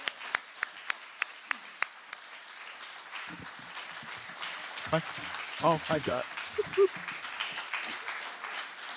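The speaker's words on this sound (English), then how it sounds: "Please join me in giving a big, warm round of applause" A few sharp, isolated claps at first, then scattered applause building at a celebration for a New Hampshire news outlet's tenth anniversary, with people talking and exclaiming over it.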